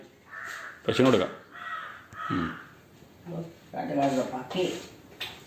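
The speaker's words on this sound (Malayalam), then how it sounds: "കാക്കയല്ലേ കാക്ക." Several loud, harsh crow caws come in uneven bursts close by, overlapping with a person talking.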